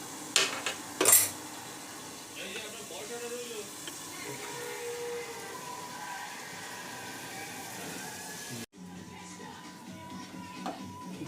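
A metal pot lid clatters with a couple of sharp clanks while chicken masala cooks, followed by a low simmering hiss and faint kitchen sounds, with speech nearby.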